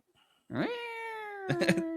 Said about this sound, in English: No, that's a cat.